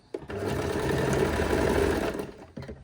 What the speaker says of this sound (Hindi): तो यहाँ पर हम सिलाई लगा देते हैं।